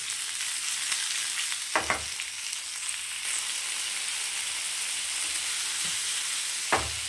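Vegetables with mint sautéing in a little oil in a pan: a constant bright sizzle close by, punctuated by a few sharp stirring knocks and scrapes.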